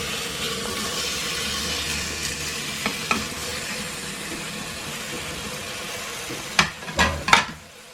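Onions, tomatoes and green chilies frying in oil in a pan, a steady close sizzle running throughout, ending with a few sharper bursts of spattering or stirring.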